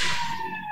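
Ambulance siren passing outside, a steady wailing tone with a strong band near 1 kHz that holds for under a second at moderate level, clear and unmasked.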